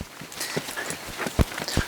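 A horse walks on firm ground during polo-style stick training, its hooves clip-clopping in a steady, moderately close rhythm of sharp knocks, a few louder strikes standing out.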